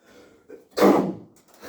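A single sharp, loud sneeze bursts out in a quiet classroom during a calculus lesson, preceded by a faint breathy intake.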